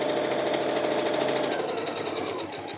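A sewing machine stitching a pillowcase made of licensed fabric, its needle running in a fast, even mechanical chatter up close that slows slightly toward the end.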